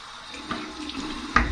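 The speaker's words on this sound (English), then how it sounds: "Here's my cold water rinse." A cold water tap runs into a bathroom sink for a rinse after a shave, a steady close rush of flowing water with a brief splash near the end.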